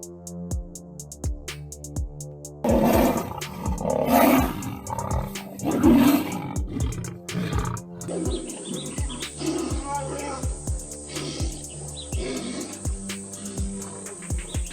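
A lion and a tiger roar and snarl while they fight, loud and close. Bursts of growling overlap with someone narrating and a steady electronic music bed, and bird chirps come through in places.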